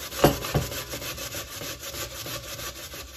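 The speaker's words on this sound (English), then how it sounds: "I'm grating my sweet potatoes on the fine side" Sweet potatoes rasp across the fine side of a grater in a few scraping strokes, the first two sharp and close, then softer rubbing, with no talking.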